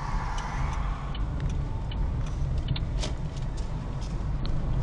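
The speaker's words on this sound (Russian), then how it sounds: "Лево поворотник включи" A car's left turn signal ticks at a regular pace during a driving lesson in Khabarovsk, its clicks sitting under a loud, steady engine and road rumble inside the cabin.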